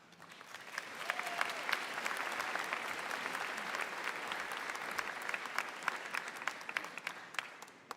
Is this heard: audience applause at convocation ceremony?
yes